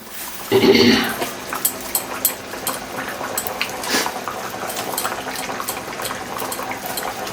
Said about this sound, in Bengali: আর তরকারিটা কি সুন্দর টকবক করে ফুটছে আপনারা তো দেখতেই পাচ্ছেন